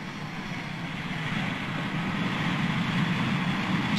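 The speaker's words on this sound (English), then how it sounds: "7021 is clear for takeoff." An aircraft takes off from an airport in 1961. Its engine roar is a steady, loud, broad rumble that builds gradually in volume over a few seconds, with no talk over it.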